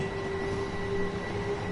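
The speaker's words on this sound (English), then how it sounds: "there goes the train to Hastings" Train pulling away in the Train Sim World video game, a steady low rumble with a constant humming tone, moderately loud and unbroken, no voices.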